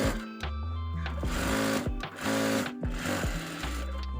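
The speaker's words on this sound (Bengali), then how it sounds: "এখন হাতাটি সেলাই করে নিচ্ছি" A sewing machine stitches the sleeve of a kameez, its motor running loud and close in steady bursts with brief pauses between seams, and no talking.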